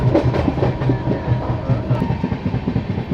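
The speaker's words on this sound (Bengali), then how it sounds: "ডব্লিউএজি টুয়েলভ কয়লা বোঝাই মালগাড়িটাকে লক্ষ্যে পৌঁছে দেওয়ার দায়িত্ব নিয়েছে ভারতের সবচেয়ে শক্তিশালী গুডস লোকোমোটিভ" A heavy coal-laden freight train hauled by a WAG-12 electric locomotive rolls past close by near Dhanbad, its wheels clattering in a steady rhythmic clickety-clack over a constant rumble.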